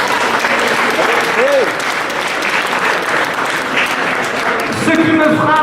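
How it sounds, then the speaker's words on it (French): An audience at the Grand Prix de la Presse Internationale award ceremony applauds four prize winners, a loud, dense, sustained clatter of many hands filling the room, with a few voices mixed in. "je voudrais qu'on les applaudisse à nouveau"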